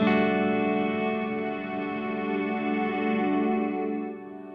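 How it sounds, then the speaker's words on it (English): Eventide H90 pedal running the Ultra Tap algorithm on its Ultra Swell preset into the Black Hole reverb, turning a guitar chord into a sustained, shimmering swell with rich harmonics that holds steady and then fades slightly at the end, with no voices. "we're using the Ultra Tap algorithm with the Ultra Swell, the preset"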